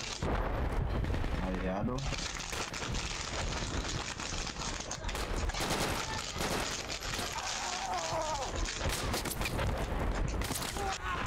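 Gunfire in the video game Project Reality 2: dense, rapid bursts of shots and automatic fire crackle loudly and continuously, mixed with brief voices over the battle.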